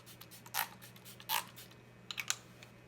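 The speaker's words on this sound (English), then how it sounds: "I'm gonna spray it once again with my Smashbox" A Smashbox setting spray is misted onto a made-up face in two short, soft hissing bursts, followed by a few faint clicks from the nozzle, heard up close and alone.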